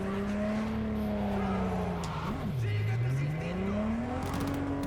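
A car in the video game Cyberpunk 2077 drives with a steady engine drone, then skids as the pitch dips and swoops back up, loud and continuous with light background noise.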